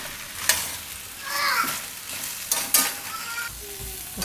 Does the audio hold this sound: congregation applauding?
no